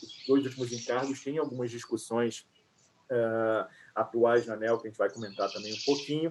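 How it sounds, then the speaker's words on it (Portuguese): A small bird sings with high chirps in the background while someone talks steadily close to an open microphone during an online presentation. "tem um passarinho cantando aqui."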